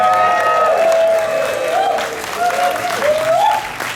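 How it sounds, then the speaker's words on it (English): Steady audience applause fills a comedy show room at the Edinburgh Fringe for several seconds, a dense wash of clapping with some scattered voices and cheers mixed in. "Can we have a round of applause for this woman, by the way?"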